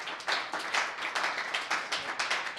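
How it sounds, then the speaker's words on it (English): Audience at a TikTok Shop workshop applauding, a fairly soft, steady patter of many hands clapping in quick uneven bursts, with no talking. "But I just wanted to give Kurt a round of applause"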